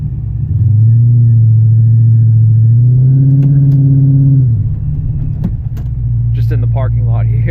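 A Dodge Challenger with a TH400 automatic transmission idles with a deep, steady rumble, then rises in a revving pull in first gear in a parking lot before settling back to a low idle, close and loud throughout.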